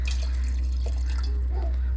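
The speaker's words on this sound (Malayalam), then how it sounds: "ലേശം വെള്ളം ഒഴിച്ചു കൊടുക്കാം." A little water is poured into homemade chilli pickle, giving a short, soft liquid trickle and dripping close by over a low steady hum, with no talking.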